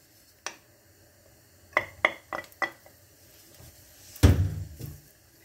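Guanciale goes into a pan with garlic, heard as scattered clinks and knocks of utensils and cookware followed by a louder clatter and a short burst of sizzling near the end.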